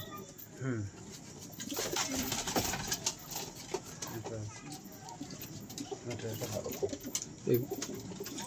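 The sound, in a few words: Giriraj high-flying pigeons cooing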